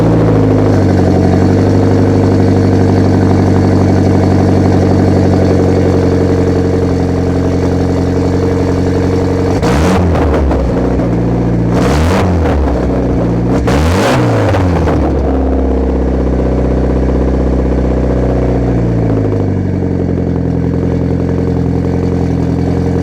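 A Mitsubishi Evo X with an aftermarket exhaust idles with a deep, steady drone, then revs sharply three times in quick succession before settling back to a loud idle, heard close and alone.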